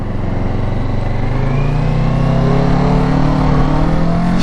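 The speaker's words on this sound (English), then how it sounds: "This is where the throttle is important when you're letting off the clutch." A motorcycle engine held at steady revs as the rider eases off the clutch and pulls away slowly, with a rising harmonic drone from start to finish. The sound is loud and close, with no speech.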